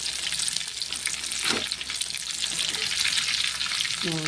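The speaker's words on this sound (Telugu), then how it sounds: "వైపు ఇట్లా కాలాలి ఎర్రగా." KFC-style chicken leg pieces fry in hot oil with a dense, constant sizzle and crackle, close and loud, with brief stirring knocks and no talking.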